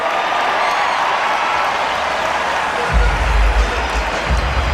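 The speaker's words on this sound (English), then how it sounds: "Crowd seeming to be pleased with the verdict." Basketball arena crowd at a Kentucky game roaring and applauding a referee's flagrant foul ruling, a steady wash of crowd noise that swells louder partway through.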